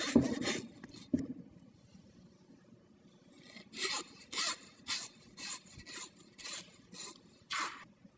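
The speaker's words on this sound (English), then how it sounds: "You can see we've started our cuts to separate the rib from the square cut chuck" A knife works through a side of beef to separate the rib from the square cut chuck between the fifth and sixth ribs, giving a series of rhythmic, rasping sawing strokes, close and fairly distinct, with a brief pause between bursts.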